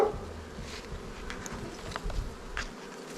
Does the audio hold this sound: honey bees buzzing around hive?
yes